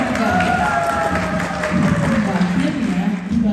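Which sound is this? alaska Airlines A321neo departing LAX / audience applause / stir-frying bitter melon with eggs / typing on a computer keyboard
audience applause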